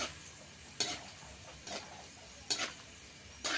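A spoon scrapes through grated carrot and semolina (rava) as they roast in a pan. Four evenly spaced stirring strokes come over a faint, steady sizzle, close up, with no voices.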